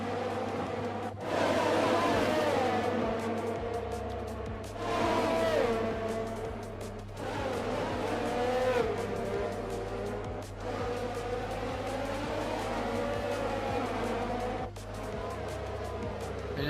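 Formula 1 cars in F1 2021 racing around Monaco, their engines whining and rising in pitch as they overtake, with repeated shifts and short gaps, under continuous talk.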